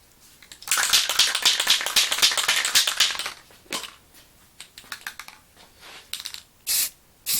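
Flat Rust-Oleum paint and primer sprayed from a can onto a 1/64 NASCAR die-cast car, a close hissing burst lasting a few seconds, then shorter separate sprays with gaps between.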